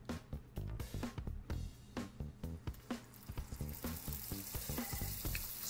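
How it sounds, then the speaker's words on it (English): Turkey sausage rolls fry in hot oil with busy crackling sizzle and rapid pops, quiet but close, running without pause and growing into a brighter hiss toward the end. "So in a hot oil, you will place your turkey roll, and this will take about 5 to 7 minutes to cook."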